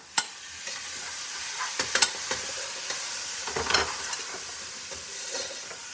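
Vegetables stirring and sizzling in a frying pan, with steady frying hiss and repeated clinks and scrapes of a utensil, close and alone without speech.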